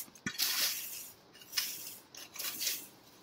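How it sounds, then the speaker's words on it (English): A garden rake scrapes lightly across vegetable bed soil, clearing crop debris and weeds in several short, rough strokes with pauses between them. "I'll just rake them off"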